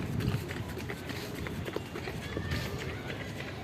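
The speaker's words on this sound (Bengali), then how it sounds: "কতগুলো গরুর পাল আসতেছে দেখেন" A herd of cattle passes by, giving a dense stream of hoof thuds and shuffling footsteps on the ground at close to mid distance, with a faint breezy hiss throughout.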